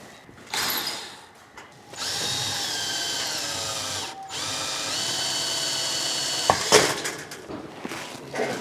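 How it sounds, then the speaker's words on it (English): A power drill whirs close by while backing out the screws that hold a garage light fixture, in several sustained whining runs of rising and falling pitch with brief pauses between them and no talking. "Now we can start removing the screws, holding this light up."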